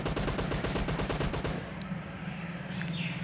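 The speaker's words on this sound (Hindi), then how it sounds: "बंदे हम पे फायरिंग भी कर रहे थे" Rapid automatic gunfire in the PUBG Lite video game rattles in a fast burst for about a second and a half, then gives way to quieter in-game ambience.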